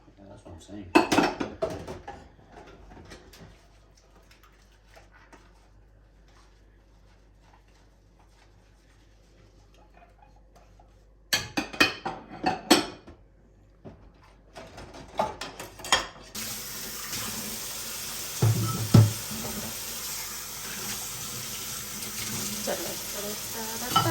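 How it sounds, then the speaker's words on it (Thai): Dishes, pots and cutlery clatter in a kitchen sink in short bursts between quiet stretches, then a tap runs steadily as washing continues, with scattered knocks of crockery over the flowing water. "สนุกไหมล้างจาน"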